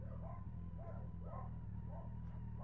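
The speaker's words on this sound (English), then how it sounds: "Bloody dogs." Several dogs bark outdoors on a street, faint and distant, with about five yapping bursts in a loose rhythm over a low, steady background rumble.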